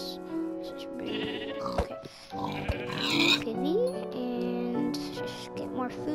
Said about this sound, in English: I can't believe there's so many sheep in one place.